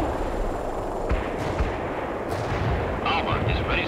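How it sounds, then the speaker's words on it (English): Medium artillery fire in the real-time strategy game World in Conflict: a dense, continuous roar of booming shell impacts and rumbling explosions, loud and close, with a few sharper cracks near the end. "Medium artillery is available for you."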